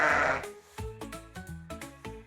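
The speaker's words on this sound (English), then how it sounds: "Yes, this is a sheep." A sheep bleats several times in short, wavering, nasal calls, close and clear with a brief breathy burst at the start.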